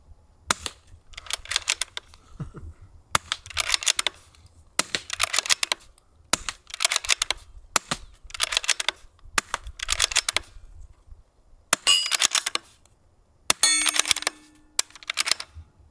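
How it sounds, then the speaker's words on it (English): A suppressed .22LR precision rifle produces a series of sharp, close mechanical clicks and clacks in irregular bursts, like dry firing and cycling the action, with no talking. "Okay, that was a dry fire."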